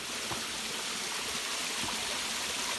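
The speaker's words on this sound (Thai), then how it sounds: "นี่คือบริเวณหน้าผ้าน้ำตกจิ๋มใหญ่นะครับ" Water pours steadily at the Jim Yai waterfall near Ban Khao Phluang in Phetchabun, a continuous broadband rush heard from a moderate distance with no voices over it.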